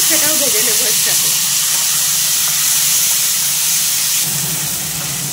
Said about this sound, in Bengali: আগের থেকে দেখো সকালে ছোলাটা সেদ্ধ করে রেখে দিয়েছিলাম, সেটাও ভেজে নেবো এর সাথে।